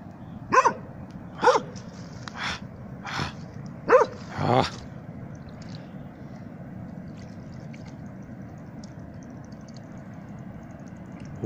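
A dog gives five or six loud barks in a quick, uneven run across the first few seconds, then stops, leaving a steady outdoor background hush with no barking for the rest.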